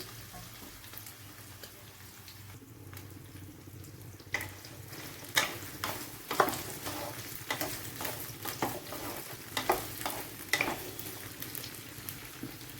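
Raw mango, carrot and green chillies fry in oil with cumin and mustard seeds for a mixed vegetable pickle. A low sizzle runs under sharp, irregular scrapes and knocks of stirring in the pan.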